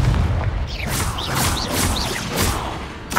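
Confringo blasting spell explosions in the video game Hogwarts Legacy, a string of loud whooshing blasts and booming bursts following one another over continuous rumbling noise.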